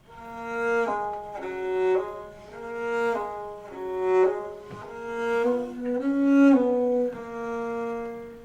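A solo violin plays smooth, gentle two-note figures that rock back and forth in a swaying rhythm, each phrase swelling and fading softly.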